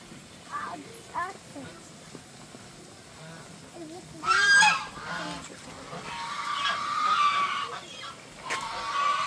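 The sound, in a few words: geese honking in a park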